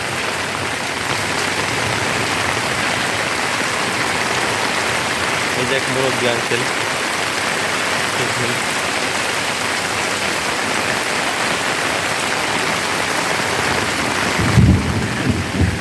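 Steady heavy rain pours on a roadside lined with bending trees, a continuous dense wash with rumbles of thunder rolling underneath; someone speaks briefly partway through, and a louder low thump lands near the end.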